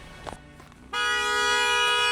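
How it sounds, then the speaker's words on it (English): A car horn blares in New York traffic, starting abruptly after faint street noise and then holding one loud, steady tone close by. "We're gonna see how long he's just gonna remain honking"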